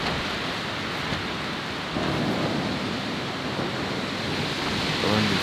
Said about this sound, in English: Better way to test out your hammocking up in the tree than a thunder and lightning storm and the winds.